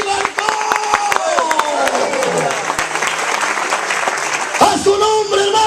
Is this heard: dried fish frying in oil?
no